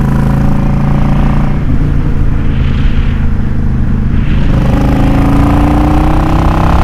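A motorcycle fitted with a K&N Chrome Top RC-0850 filter and re-jetted Mikuni carburetor runs loud and close, its engine droning steadily with pitch shifts as it rises and settles under load.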